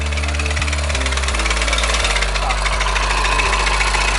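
A Coleman dirt bike engine runs loud and steady, its low throbbing idle with shifting harmonics continuing throughout under a faint layer of background chatter.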